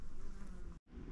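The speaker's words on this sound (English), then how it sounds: "Those sounds of bees I was talking about, you could even hear them from the parking area" Bees buzz around flowers beside a mountain trail, a close, continuous droning hum that drops out only briefly.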